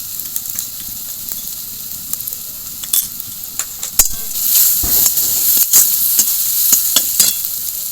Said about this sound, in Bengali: রসুন আর পেঁয়াজ খুব ভালো করে ভাজা হয়ে গেছে